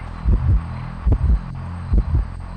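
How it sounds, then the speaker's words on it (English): A heartbeat warning in the video game Identity V, signalling a nearby hunter: loud, low double thumps repeating steadily about every second, over a constant hum, with no voices. "Now you do hear my heartbeat."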